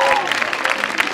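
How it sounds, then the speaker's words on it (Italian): Applause for students at a school event, a crowd clapping steadily through the short moment, with some voices mixed in. "Un applauso a loro."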